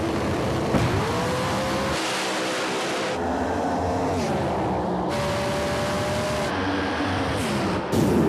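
No-prep drag race cars launching and accelerating hard down the strip, a loud roar with repeated shifts and rising pitches as engines scream, layered with crowd or track ambience throughout.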